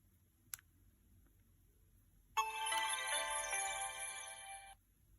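LG Voyager phone power-off sound: a bright electronic chime jingle lasting about two seconds, preceded by a small click, played close and alone in a quiet room.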